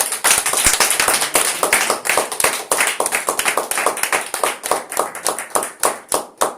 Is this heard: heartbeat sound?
no